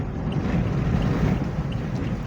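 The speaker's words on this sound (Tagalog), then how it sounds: "Ang lakas ng hangin." Loud, steady wind roars and buffets the microphone without pause in Ilocos Norte, Philippines, a dense rushing noise with no voices.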